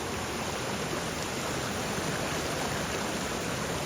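A waterfall coming down from the hills roars in a dense, even wash of rushing water that stays constant and fairly distant, with no voices.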